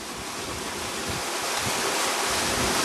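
Rapids on the Kern River roar as a broad, steady rush of churning whitewater, loud and continuous, with low buffeting wind noise underneath and no voices.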